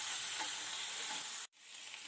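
Hog plums (amra) fry in hot mustard oil, a dense, close hiss that fills the pan and breaks off briefly for an instant before resuming.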